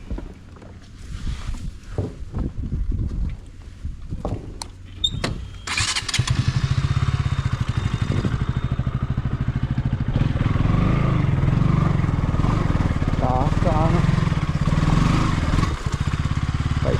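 A motorcycle engine sputters and starts among knocks and clatter as the bike is loaded onto a small wooden boat for a river border crossing, then settles into a loud, steady close running drone.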